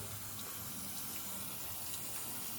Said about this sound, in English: go ahead and cut this water off